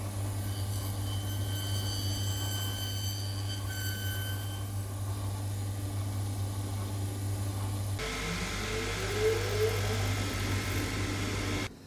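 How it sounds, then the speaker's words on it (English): A shoe repair machine trims replacement heels on worn boots, giving a steady motor hum with a hiss of grinding noise that turns harsher and brighter partway through as the heel meets the cutter. "Let's go over to the machine and trim them off tidy as."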